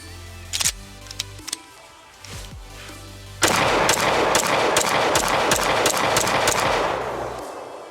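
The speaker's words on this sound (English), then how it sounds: "let's get back to shooting and see how this thing does on its second mag" Shadow Systems MR920 pistol shot on a range: a few sharp isolated reports at first, then a steady run of loud, rapid gunshots that echo out, with no talking.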